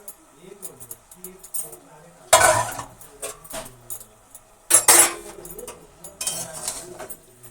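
Kolkata-style chicken curry is stirred in a pan on a high flame: three sharp bursts of spoon-on-metal scraping and clatter, separated by quieter gaps with soft talk nearby.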